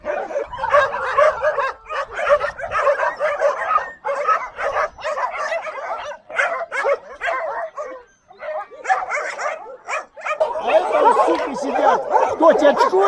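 Russian laika hunting dogs bark in a dense, overlapping chorus of close, sharp yaps and yips, sustained almost without pause and swelling louder near the end.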